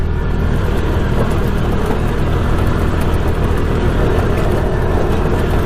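A Polaris Ranger UTV ploughs through deep drifted snow, its engine a steady, loud broadband drone that holds without letup throughout.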